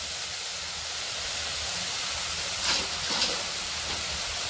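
Onion and garlic paste frying in hot oil for a fish rezala gives a steady, dense sizzling hiss that holds evenly throughout, with a couple of faint scrapes partway through.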